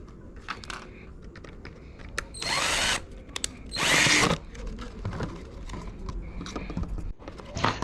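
Power drill boring holes into a PET plastic bottle, two loud whining bursts of a few seconds each, close up, set among small clicks and handling noises.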